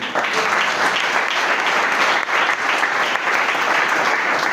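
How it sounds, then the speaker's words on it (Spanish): Sustained applause from a church congregation, dense and loud, steady clapping with no pauses throughout. "Mientras que agarro aire, aplaude al Señor."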